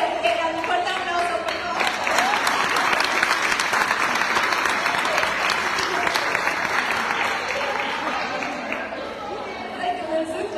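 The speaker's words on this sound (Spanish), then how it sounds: "Era para que se quedan un fuerte aplauso," An audience at a talk by an engineer breaks into strong, sustained applause, dense clapping that swells and holds for about ten seconds, with some murmured voices underneath.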